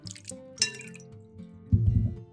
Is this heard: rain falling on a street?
no